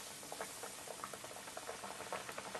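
Chicken wings for honey BBQ wings frying in hot oil over a medium flame, a dense, steady bubbling sizzle with small crackling pops throughout and no voices.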